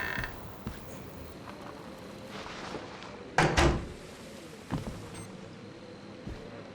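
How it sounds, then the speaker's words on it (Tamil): A door opens in the horror video game Outlast 2, one loud creaking, scraping burst midway followed by a softer knock, set against a quiet, dark ambient hum with no speech. "கதவை திறடா."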